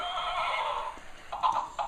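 A horse neighs and whinnies loudly and close by, with a long drawn-out call followed by shorter bursts, no voices over it.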